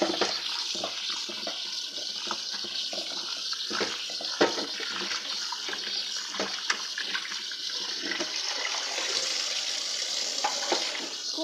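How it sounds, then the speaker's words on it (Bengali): Chicken pieces with bone being washed under running water, a steady close splashing rush of tap water with irregular wet clicks and handling noises throughout. "এবারে মাংসটাকে আমি ধুয়ে নেব।"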